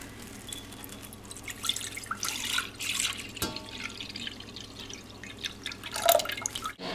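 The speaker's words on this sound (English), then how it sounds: "we will empty the wort into the Pyrex" Beer wort being poured from a brewing vessel into a Pyrex container, soft trickling and dripping at close range with occasional clinks.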